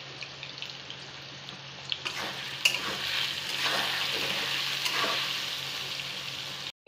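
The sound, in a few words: potatoes frying in oil with turmeric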